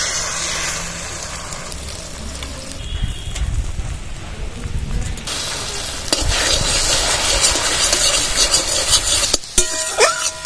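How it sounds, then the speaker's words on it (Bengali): Beaten egg seasoned with salt and turmeric is poured into hot oil in a kadai, setting off a loud crackling sizzle with stirring scrapes that grows stronger toward the end, with no one speaking. "ডিমটা ভালো করে ফেটিয়ে নেবো এবার ডিমটা দিয়ে দেবো তেলে"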